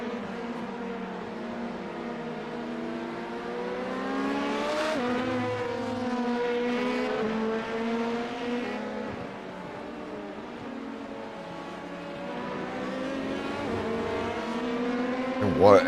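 Several race cars in a stock-car racing video game roar and jostle on an oval track, engines droning and shifting pitch continuously at a steady, moderate level.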